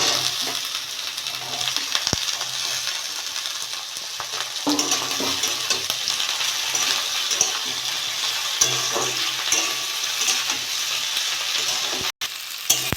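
Taro stolons fry in a pan with onion and dried chili, giving a steady close sizzle with occasional spatula stirs and light scrapes throughout.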